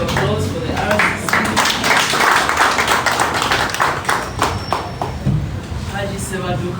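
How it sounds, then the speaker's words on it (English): Crowd at a political gathering claps, a brisk clatter of many hands swelling and then thinning out, with voices speaking over it. "Another round of applause for the RCC."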